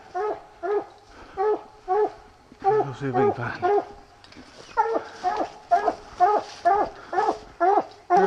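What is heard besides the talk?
coonhound pup barking at a tree while hunting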